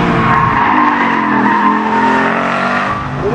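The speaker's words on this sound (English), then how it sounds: "Love the exhaust note." Sports car engine and exhaust roaring steadily at speed on the Laguna Seca race track, loud and continuous with tire noise underneath, no talking.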